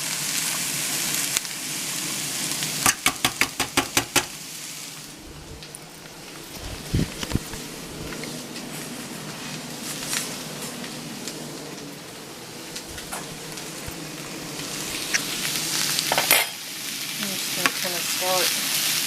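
Ground beef, already browned and drained, stirred into a sizzling mixture in a pan: continuous frying hiss with a quick run of sharp spatula clicks and scattered scrapes, a voice speaking at times.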